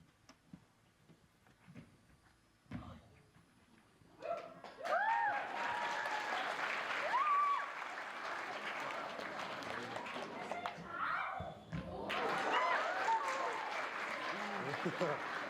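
Crowd applauding and cheering at a cultural winter games event in Happy Valley-Goose Bay, sustained clapping swelling after a quieter start, with shouts of encouragement and voices mixed in.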